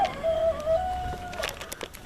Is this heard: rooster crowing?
yes